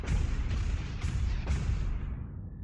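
Battleship main guns fire in a naval warfare game, several deep booming salvos rolling one after another and trailing off into a long low rumble, loud and without talk.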